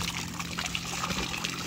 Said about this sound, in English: Pull the water out of it